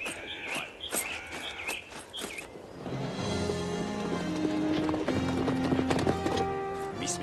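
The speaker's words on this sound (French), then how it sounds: "j'ai trouvé un chariot et les chevaux aussi" Horses clip-clop along pulling a wagon in a Western setting, hooves clattering steadily up close, with a neigh or whinny. Partway through, a loud musical score swells in and plays over the hoofbeats.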